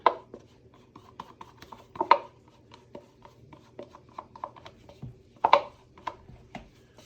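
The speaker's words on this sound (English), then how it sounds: "Same thing, we'll scrape all this out." A tool scrapes soft white soap batter out of a container while making a watermelon soap, with repeated short scraping and tapping strokes in an uneven rhythm, close and moderately loud, with no talking.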